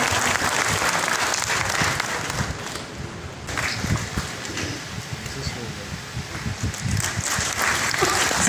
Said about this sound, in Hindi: जोरदार तालियां सभी विजेताओं के लिए.